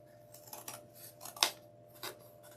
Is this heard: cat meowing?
no